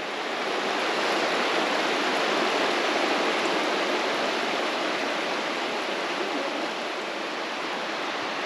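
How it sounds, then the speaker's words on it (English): Steady, broad rushing of running water coming out of moss along a waterfall trail at Ricketts Glen State Park, constant and fairly loud throughout with no talking. "Water's coming right out of the moss."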